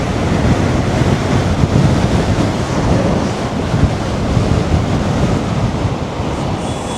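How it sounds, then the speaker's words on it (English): Strong wind roaring across the microphone while riding a Maxfun 10 Max electric scooter, a loud, steady buffeting rush with no pauses and no talk. "I can tell there's a big bit of a wind right here"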